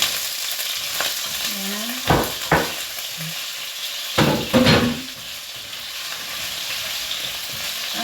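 Potatoes frying in a pan under a constant hiss of oil, with a few loud scraping stirs in two clusters and a brief spoken word.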